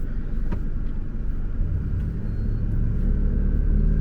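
Ferrari 458 Italia engine rumbling as it pulls off after warming up: a deep, close, continuous low rumble that swells slightly toward the end, with faint squeaks and clicks on top.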